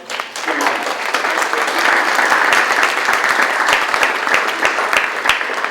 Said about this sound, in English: I'd like to give a nice hand of applause to our director of the gallery.